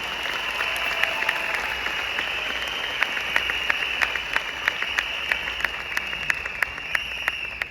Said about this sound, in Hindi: तो आप अपने लिए जबरदस्त ताली बजाइए।